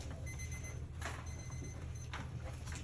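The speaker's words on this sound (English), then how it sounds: "There goes our timer." A classroom timer going off, a repeated electronic beeping alarm in short pulsing bursts, moderately loud over a low room hum.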